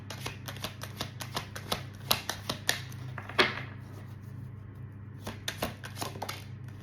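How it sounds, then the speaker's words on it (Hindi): Tarot cards shuffled and drawn by hand, a run of crisp, rapid flicks and slaps in quick bursts, close and fairly quiet over a low steady hum, with a short pause before the flicking resumes. "4 कार्ड्स मैं यहाँ से लेने वाली हूँ।"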